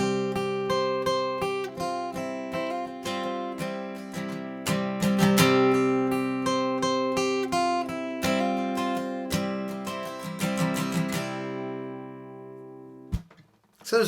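Acoustic guitar plays the intro of a worship song in G, with steady plucked single notes ringing over droning strings for about twelve seconds before fading, followed by a brief handling noise.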